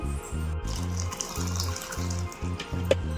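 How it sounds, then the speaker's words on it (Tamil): Water runs and pours in a steady stream close by into a thick curry in a home kitchen, with a low, pulsing hum underneath. "கொஞ்சமாக தண்ணி சேர்த்துக்கலாம் ரொம்ப திக்காக இருக்குது கொஞ்சமாக தண்ணி சேர்த்துக்கிட்டேன்"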